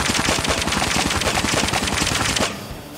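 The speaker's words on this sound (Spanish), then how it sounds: "Apuntamos en el medio y disparamos." A KN-44 rifle in COD Mobile fires a rapid, continuous burst at close range, loud dense automatic shots in a steady rhythm for over two seconds before cutting off into a brief ringing tail.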